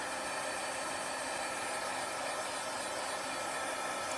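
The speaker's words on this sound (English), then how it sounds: "I'm going to hit this with a dryer for just a second" A dryer blows on chalk paint for a moment, making a steady, soft airy whoosh that holds unchanged throughout, with no talking.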